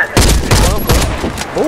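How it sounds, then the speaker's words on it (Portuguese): Loud, close explosions in the Warface video game, a grenade detonating amid repeated heavy booms during a clan match, with voices talking over the blasts. "Lançando granada!"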